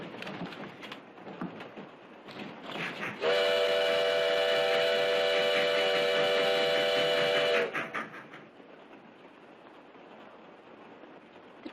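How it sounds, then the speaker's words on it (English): A passenger train moving at about 30 miles an hour in an old Western setting lets out one loud, sustained whistle blast of roughly four seconds, rising out of a low rolling rumble that continues before and after. "The train goes so fast."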